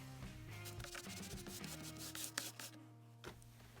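A damp rag scrubs a dirty truck door panel with a cleaning product, making quiet, close rubbing and scraping strokes over a steady low background hum.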